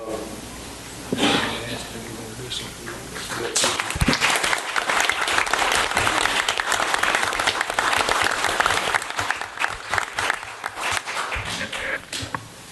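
An audience at a town council meeting applauds students, a dense burst of clapping that swells after a quiet start and carries on steadily to the end, with a few voices mixed in.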